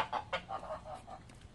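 Chickens on a farm in Saudi Arabia cluck softly in a quick series of short calls, fairly faint and with no talking.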